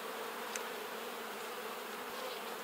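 Honey bees buzz on plastic hive frames in a dense, steady drone, close and continuous, with no voices.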